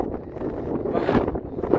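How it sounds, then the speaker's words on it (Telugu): Strong wind on a hilltop near Savitri Mata Temple, Pushkar, buffets the microphone in a steady, low roaring rush that swells and gusts throughout, loud and close, with no clear voices. "గాలి అనేది విపరీతం, అసలు మనిషే ఎగిరి ఎటో వెళ్ళిపెట్టేట అంత గాలి అండి"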